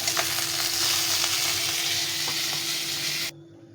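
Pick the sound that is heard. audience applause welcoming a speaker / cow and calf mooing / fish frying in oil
fish frying in oil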